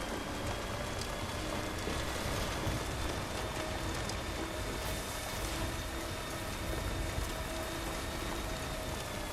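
Steady rain in the Death Stranding video game falls as a continuous dense hiss of drops, constant and fairly loud, with faint low vehicle rumble beneath and no talk.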